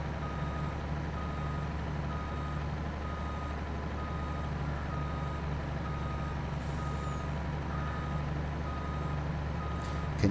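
A truck in Farming Simulator 22 backs up with a steady, evenly spaced backup beep repeating over a constant low engine drone, with a short air-brake hiss near the end.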